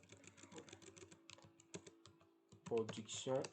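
A chart title being typed on a computer keyboard: quiet, rapid key clicks in an uneven patter, ending with a few louder taps.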